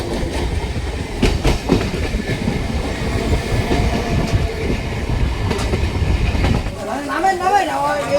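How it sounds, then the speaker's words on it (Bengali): A local train rolls loudly into Ranaghat station in West Bengal with a steady rumble and clickety-clack of wheels, while another train passes alongside; near the end a person talks over the fading rail noise. "ট্রেন এখন রানাঘাট স্টেশনে ঢুকছে বন্ধুরা। পাশ দিয়ে একটা ট্রেন চলে যাচ্ছে।"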